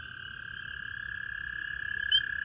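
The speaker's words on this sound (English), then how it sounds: "there's a pair of spring peepers right here" Spring peeper frogs call at night in a steady, shrill chorus of high piping peeps, continuous and fairly near, with no voices.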